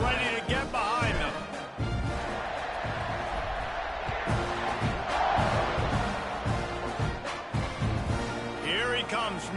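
A football stadium crowd in a college football video game roars and cheers in a sustained, loud wash, with a commentator talking over it.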